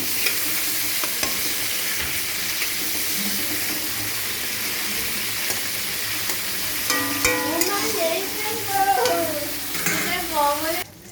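Prawns fry in oil in a pan, giving a steady hiss and sizzle, with occasional utensil scrapes and a brief watery splash near the end.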